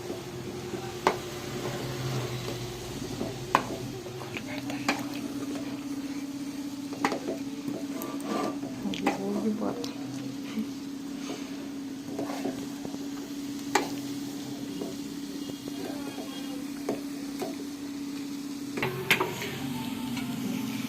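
Carrot and bottle gourd halwa being stirred in a pan over a medium flame, with a steady low sizzle and scattered spoon scrapes and taps against the pan, close and fairly quiet, with no talking.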